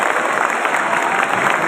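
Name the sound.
audience applause welcoming a speaker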